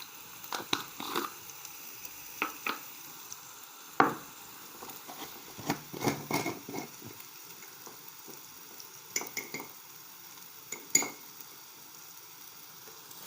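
Spices sautéing in a pan for green pea curry, a soft continuous sizzle broken by irregular scrapes and clacks of a spoon stirring the mixture, fairly faint and close.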